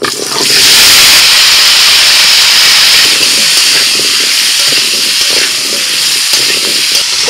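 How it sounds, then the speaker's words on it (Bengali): Potatoes frying with salt and turmeric in a large pan of hot oil at an outdoor village picnic cookout, a loud, close, steady hissing sizzle that swells in at the start and holds throughout. "এবার আলুটা একটু ভেজে নিচ্ছি লবণ হলুদ দিয়ে"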